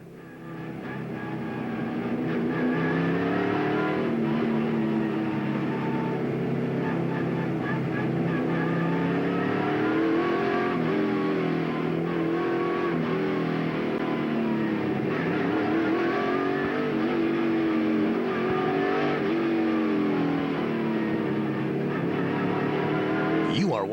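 NASCAR stock cars racing in the 2003 Sharpie 500 night race at Bristol Motor Speedway, heard as a loud, continuous engine roar whose pitch swells and dips with the revs, close and steady for the whole stretch.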